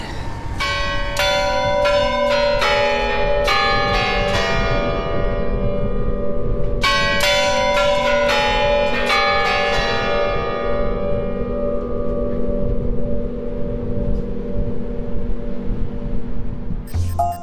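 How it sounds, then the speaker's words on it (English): The main church bell of the Kremlin rings very loudly and close, with repeated heavy strikes in clustered peals and long ringing overtones that fade slowly into a lingering hum toward the end. "the main bell is gonna start ringing and we are risking of becoming deaf"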